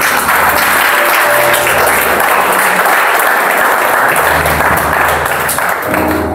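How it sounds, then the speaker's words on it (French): A church congregation applauding during a French-language service, loud sustained clapping from many hands close by, steady throughout with no speech over it. "Acclame Jésus"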